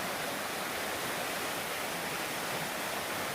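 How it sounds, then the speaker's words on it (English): A small creek flows along a hiking trail, a steady, even rush of water close by with no breaks and no other sounds over it. "it's like a tiny creek."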